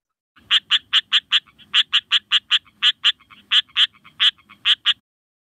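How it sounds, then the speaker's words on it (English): A striped rocket frog, Litoria nasuta, from Australia, calling in a loud, close series of about twenty sharp, quick clucking notes in uneven groups, somewhat duck-like, with no other sounds. "this is the striped rocket frog"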